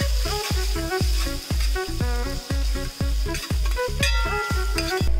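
Chicken with spices fries in a pan with a loud, steady sizzle. A spoon stirs it in quick, regular scraping strokes, several each second, heard close up with no talk.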